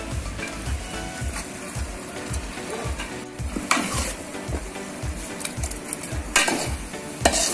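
Mutton sizzles in a pan while a spoon scrapes and stirs in a steady rhythm, with occasional clanks of metal on metal, up close.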